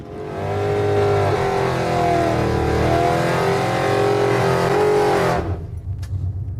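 A 1967 Pontiac Firebird drag car on nitrous at full throttle roars loudly and steadily with a rising engine note, then cuts off sharply near the end, leaving quieter background noise.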